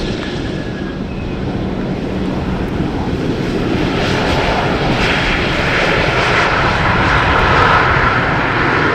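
Airliner landing on runway 18R at Amsterdam Schiphol in rainy, windy weather, without reverse thrust: a steady, loud, broadband jet roar that swells slightly over the nine seconds, with wind rushing across the microphone.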